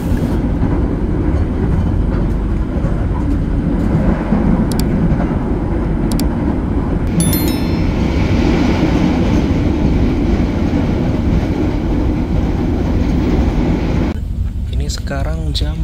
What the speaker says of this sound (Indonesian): kereta api Gajahwong tiba di Stasiun Wates, Kabupaten Kulon Progo.